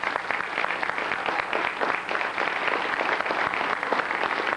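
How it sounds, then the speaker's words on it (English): An audience applauds seven seniors at a sports banquet, dense steady clapping from a crowd filling the whole stretch at even loudness, with no talking over it. "let's thank these 7 seniors with a round of applause"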